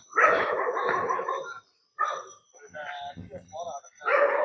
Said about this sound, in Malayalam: പട്ടി കുരയ്ക്കുന്നു ഗൈസ്.